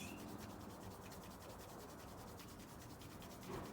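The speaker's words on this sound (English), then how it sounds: "Draw the hands together and start to vigorously rub the hands" Palms rubbing vigorously together to build warmth during a vinyasa yoga practice, a steady continuous rasping swish close to the ear, held evenly for several seconds with no talk.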